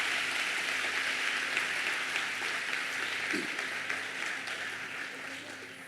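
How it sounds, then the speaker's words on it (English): First-year students of the class of 2025 applaud at a university welcome ceremony in Kimberley, a sustained, even roar of many hands clapping that gradually softens toward the end. "I think you should give yourself a warm round of applause."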